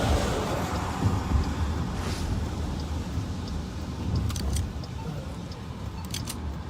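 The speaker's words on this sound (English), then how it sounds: "A lot of cars here." Several cars passing by on a rainy road, a continuous low rumble of tires and engines with wet hiss, fairly distant and steady, a few faint clinks toward the end.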